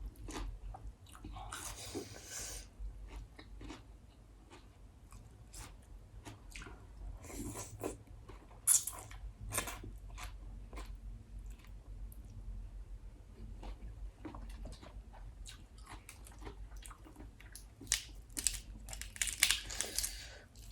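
Close, crisp crunching of raw cabbage eaten with spicy som tam, irregular bursts of chewing and biting with soft wet squishes, steady through the clip over a low background hum, with no talking.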